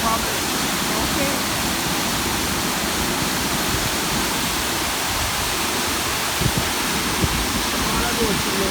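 Water pouring over the old dam on the Rio Cobre at Bog Walk, a constant loud broadband rush that drowns out a faint voice underneath.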